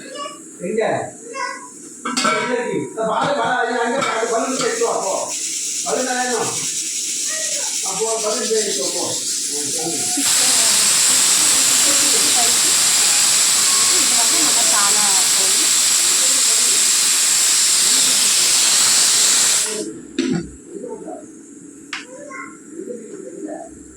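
A pressure cooker releases a loud, sustained hiss of steam for about ten seconds, drowning everything, with talking in Tamil before and after it.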